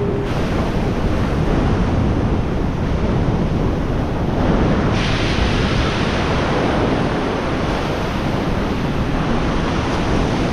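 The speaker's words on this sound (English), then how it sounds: "The Pacific Ocean." Pacific Ocean surf rolling onto a beach in the Pacific Northwest at low tide, with steady wind buffeting the microphone; a loud, continuous wash of waves and wind with no voices.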